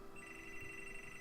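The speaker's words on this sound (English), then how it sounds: "Hold on, let me shut up that phone." A telephone rings in The Last Door, a haunted-school adventure game, giving a steady electronic bell tone with sustained overtones that is fairly quiet and heard alone.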